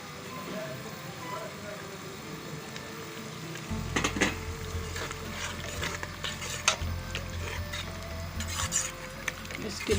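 Onions frying with garlic-ginger paste and fresh coriander in a pan, stirred with scraping, clattering strokes over a steady sizzle that grows louder partway through, with a voice speaking in the background.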